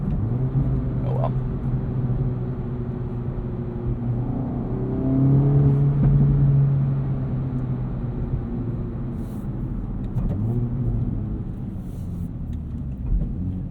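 A 2024 Acura Integra Type S engine revs steadily and rises into a brief blip as it rev-matches a downshift into first gear, heard close from inside the car with a continuous low rumble throughout.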